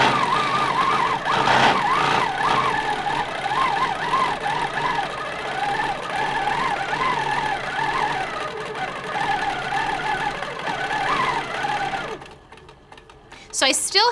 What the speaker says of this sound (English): I can see that my machine continues to stitch